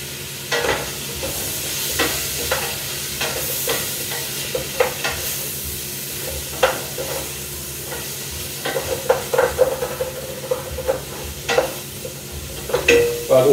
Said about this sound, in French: donc là on laisse revenir un petit peu le temps que les oignons blondissent